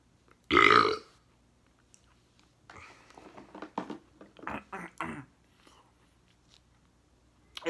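A single loud, throaty burp erupts near the mic after a round of cookie eating, followed by quieter chewing, rustling and soft mouth sounds.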